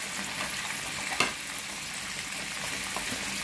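Raw onion tipped into a pan of hot oil, with salt and turmeric powder, fries with a steady close sizzle; a brief sharp spike of crackle near the middle marks the onion hitting the oil, then an even hiss continues.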